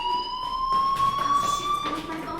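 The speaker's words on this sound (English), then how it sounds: "Hey, do you hear that fire alarm? That means you should be outside." Fire alarm in the Life is Strange video game, a steady electronic tone ringing continuously at a fixed pitch, moderately loud, with muffled talk and footsteps underneath.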